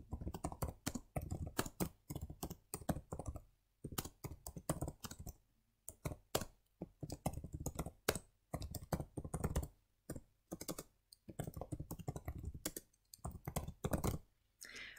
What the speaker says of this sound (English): So I'm going to type in my email address again in here.